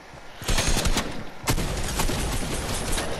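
Rapid gunfire in the video game Fortnite during a busy firefight, a loud, dense fusillade of overlapping shots that starts abruptly and keeps going without a break.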